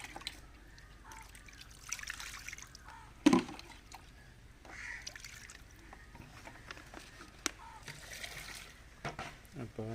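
Water is poured over a newly planted tuber: a quiet trickle and scattered drips with one sharper splash partway through, heard close in a fairly quiet outdoor setting.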